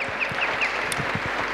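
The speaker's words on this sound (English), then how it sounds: "Clap hands for yourselves." Scattered hand claps from a crowd at an outdoor church crusade in Meadowlands, soft and uneven over a background hum, with a few bird-like chirps mixed in.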